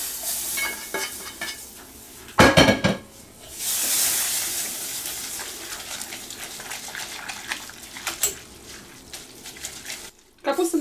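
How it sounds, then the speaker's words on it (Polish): A roux is stirred vigorously into a pot of cabbage and onion, giving wet sloshing and scraping bursts with a loud clatter near the start and intermittent clinks, while speech carries over the stirring. "Dodamy zasmażkę i będziemy energicznie mieszać."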